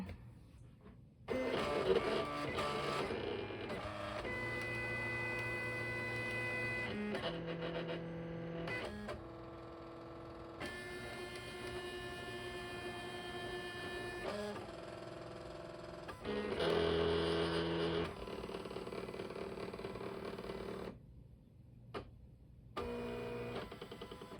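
A Silhouette Cameo electronic cutting machine cutting 12x12 scrapbooking paper whirs and buzzes in shifting electronic tones, motors starting and stopping in bursts with brief pauses between passes, close and steady.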